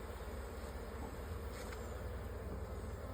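Honeybees buzz around a hive frame in a steady, close, continuous drone that holds the same level throughout, with no voices.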